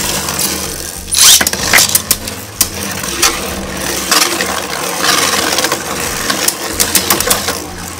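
Spinning Beyblade tops, Dynamite F Gear Dragon on a Bearing Dash with 3 armor against Spriggan, whir and grind loudly in a stadium, with sharp metallic clinks and scrapes as they collide repeatedly.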